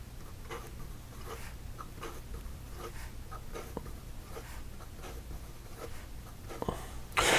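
A Pelikan M800 Kyokko fountain pen moves quickly across paper, a soft continuous scratchy rustle with faint rhythmic strokes, close and quiet, ending in a brief louder scrape.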